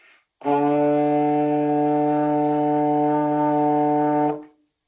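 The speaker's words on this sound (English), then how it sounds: "we're going to come into 4th position D" One long, steady low trombone tone, a D played in fourth position, sounds clearly and close up, held for about four seconds before stopping.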